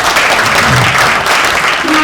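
Audience at a Laguna Woods Democratic Club meeting applauding, a dense continuous clapping from a room full of people.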